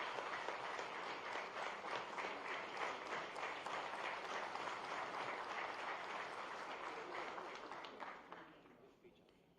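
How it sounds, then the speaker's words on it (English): Audience at a government event in Gandhinagar giving a sustained round of applause, thick continuous clapping that stays loud for most of the stretch before tapering off near the end. "So please give a round of applause."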